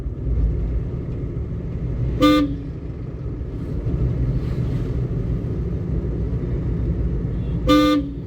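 Two short car horn toots, a few seconds apart, over a steady rumble of engine and road noise during a driving lesson.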